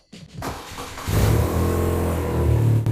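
A BMW R12 G/S motorcycle engine cranks and catches, then roars into loud, steady revving close by, with one more blip of throttle near the end.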